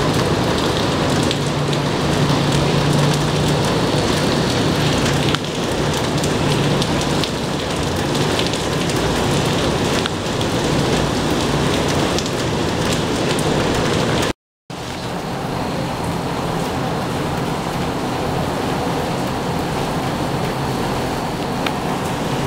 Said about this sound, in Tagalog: Yung ulan dito, kanina pa to ganito.